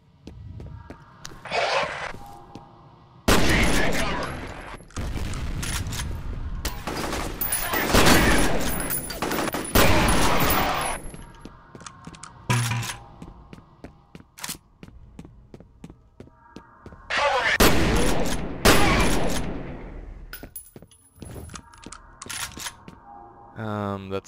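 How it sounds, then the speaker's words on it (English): Sharp mechanical bursts of a nail gun firing in F.E.A.R., heard in several separate loud volleys with short quiet gaps between them. "That's the nail gun, isn't it?"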